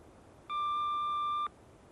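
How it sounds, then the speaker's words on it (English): A single answering machine beep, one clean steady electronic tone lasting about a second, clear and alone against faint room hiss. "Please speak after the beep."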